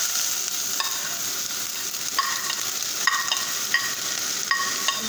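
Onion frying in oil for an Ethiopian creamy chicken dish, a steady broadband sizzle with several sharper stirring scrapes spaced through it, close and fairly loud with no talking.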